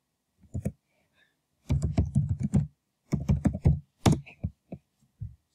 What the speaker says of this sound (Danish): Jeg har allerede en konto, så jeg taster mig bare lige ind her.